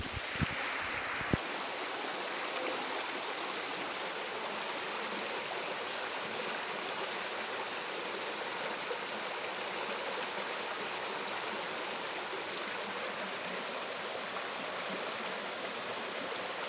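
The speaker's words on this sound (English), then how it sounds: "This was so relaxing, listening to the water flow." Steady rushing of a stream flowing over rocks, continuous and fairly loud, with no voices.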